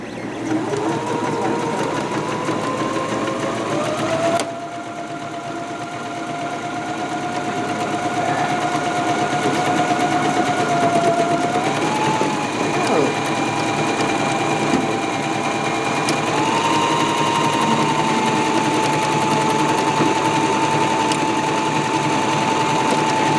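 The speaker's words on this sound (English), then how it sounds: "Wait, where am I supposed to sew this at?" A sewing machine stitches a ditty bag in one long continuous whirring run with a steady motor whine that shifts pitch a few times, heard alone and fairly close.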